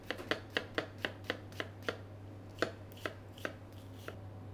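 A knife minces food on a cutting board in quick, evenly spaced taps, about a dozen crisp close chops over a low steady hum, with no talk.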